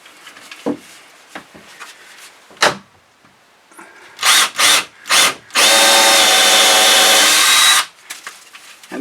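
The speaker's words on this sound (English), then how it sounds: "I am going to take my drill here and just punch some holes through." A power drill punches holes through a wooden boat deck, several short whirring bursts followed by one long sustained spin, with handling knocks and scrapes between them.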